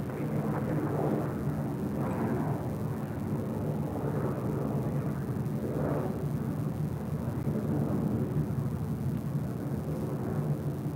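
An airliner taking off from the south side at LAX at night, a steady broad jet roar rumbling at a distance and holding constant throughout, with no voices.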